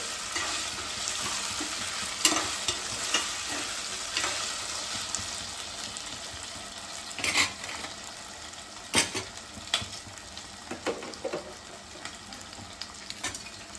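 Potatoes fry in a pan for an aloo vankaya curry, giving a constant close sizzle broken by occasional scrapes and knocks of a stirring spoon, with no talking.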